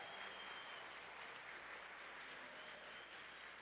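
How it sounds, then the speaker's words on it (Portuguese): A church congregation claps steadily during a sermon, a quiet, even wash of applause that holds without a break for a few seconds. "Aplauda mais forte, meu irmão"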